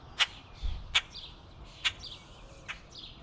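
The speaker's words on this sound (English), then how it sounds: "Listen to the sounds of the birds." Wild birds at a backyard feeder in the early dawn hours give sharp, high chirps, four clear calls spaced about a second apart, fairly close over faint background noise, with no talking.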